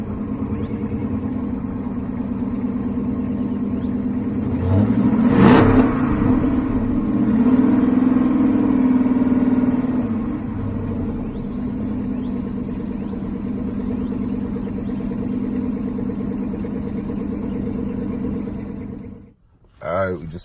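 Chrysler 300 HEMI V8 with a muffler delete rumbling at a steady cold-start idle, swelling louder for a few seconds partway through, then cutting off near the end.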